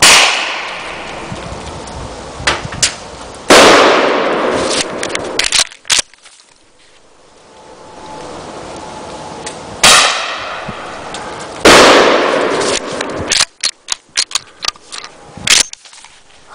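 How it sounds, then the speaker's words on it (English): Shell cracker shotgun shells fired outdoors at a redneck barbecue, several loud sharp blasts, each with a trailing whistle or crackle, separated by pauses and followed by a quick run of smaller pops. "I don't think any redneck barbecued beast be really complete without some shell crackers"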